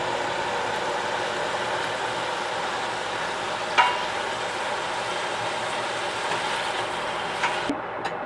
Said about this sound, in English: So you get some nice browning on all the ham.